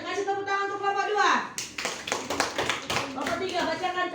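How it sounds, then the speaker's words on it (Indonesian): Classroom students clap for a group of classmates after a teacher's voice, a burst of dense, uneven hand claps rising suddenly and continuing close by with mixed chatter. "kasih tepuk tangan untuk kelompok 2"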